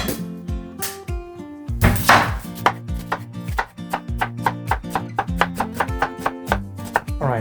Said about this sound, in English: Start with slicing an onion